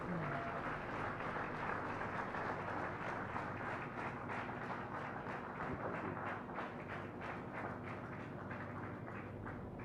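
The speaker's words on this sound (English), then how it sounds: "Let's have a big round of applause." At the flagging-off ceremony for the naval sailing vessel INSV Tarini, a crowd applauds steadily for ten seconds, a dense, distant-sounding patter over a low background hum.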